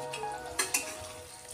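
Fried potatoes drop into frying masala for an aloo fish curry, giving a quiet steady sizzle broken by two quick clattering hits near the middle, with no talking.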